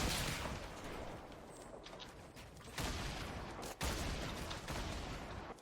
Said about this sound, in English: they're launching nades at me now